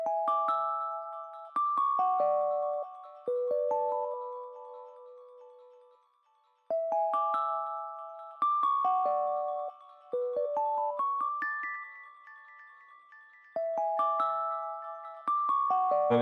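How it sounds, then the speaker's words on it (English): Electronic keyboard playing a simple chord sequence in E, bright sustained synth chords stepping through a short repeating progression with clear pauses between phrases, heard alone and fairly loud. "so the keyboard part sounds like this"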